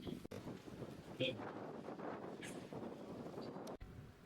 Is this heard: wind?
yes